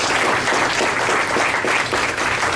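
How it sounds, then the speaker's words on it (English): Loud, dense round of applause from an audience, continuous clapping from many hands at close range with no pauses throughout. "Please give Mr. Workman a round of applause."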